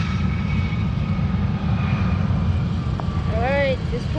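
An airplane's engine roars as a steady, broad rumble throughout, fairly loud and near, while a voice speaks briefly toward the end.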